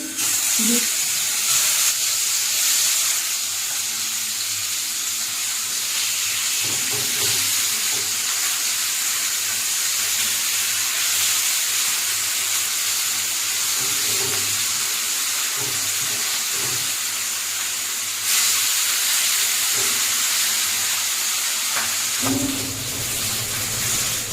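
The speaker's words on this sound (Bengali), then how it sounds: "এটা আমি সর্ষের তেল দিয়েই ভাজা করব" River fish frying in mustard oil makes a steady, hissing sizzle close by, swelling and easing over time with occasional spatters and soft handling noises, then quieting briefly toward the end.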